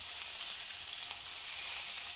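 Beef seekh kebabs cook on a flat iron griddle over a low flame, giving off a steady, even sizzle and fry hiss that carries on without pause, close up and with no voices.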